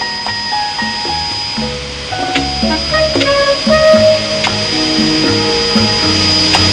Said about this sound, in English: Rough grinding is finished when the seat presents a uniform grinding pattern.